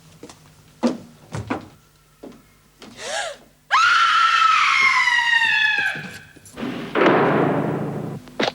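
A woman lets out a long, loud, sustained scream inside a women's prison, preceded by short thuds and gasps and followed by a second loud shriek, close and unaccompanied by talk.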